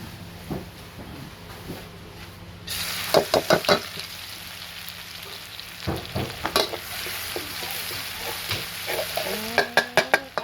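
Squid stir-fried in oil left over from frying eggs for a Thai basil squid dish: a continuous sizzle with repeated sharp scrapes and knocks of a spatula against the pan, close and busy throughout.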